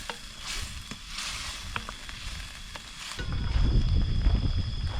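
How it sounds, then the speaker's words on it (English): A simmering camp stew gets a thorough stir in a pot outdoors, close scraping and clinking of a utensil against the pot over a soft bubbling sizzle that grows louder and fuller toward the end, no talking. "give it a thorough stir. Make sure you get all of those juices off the bottom."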